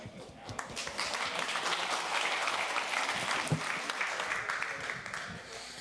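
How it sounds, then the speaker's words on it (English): A conference audience applauds a speaker with sustained, fairly distant clapping that swells and then holds steady for several seconds. "Please give applause to our speaker."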